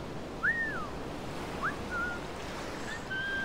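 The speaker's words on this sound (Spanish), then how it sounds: "aquí voy a cansarme de silbar" A character in Assassin's Creed IV Black Flag gives several short rising whistles, spaced apart, over a constant wash of ocean waves and wind.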